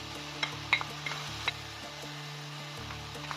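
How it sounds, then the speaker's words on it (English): Minced beef and peppers frying in a pan at high to medium heat, a soft steady sizzle with a few light scrapes and clinks of a utensil being stirred through. "Stir continuously, keeping the heat on high to medium until the mince turns brown."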